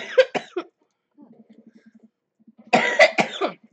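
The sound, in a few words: character coughing in a video game (Dream Daddy)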